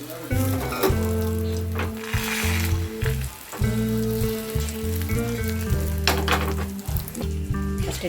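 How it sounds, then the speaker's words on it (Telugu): Omelette batter fries in hot oil in a pan, giving a continuous close sizzle under steady tonal music. "కలిపినాక ముగ్గురికి 3 ఆమ్లెట్ వేసిస్తా"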